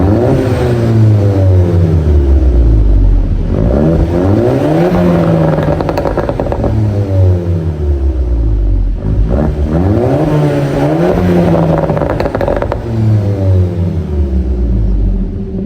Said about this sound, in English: it does have a catted downpipe on it, down to a stock exhaust, which is just the right amount of noise